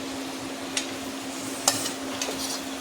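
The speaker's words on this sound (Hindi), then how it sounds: "इसको मिक्स कर देंगे" Potato curry with lemon and chaat masala is stirred in a pan, giving a soft, steady hiss broken by three brief, sharp spoon scrapes or taps, quiet and close.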